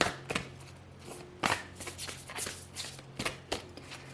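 Oracle cards are shuffled by hand, a series of quick riffling flicks and soft slaps in irregular bursts, close and fairly quiet.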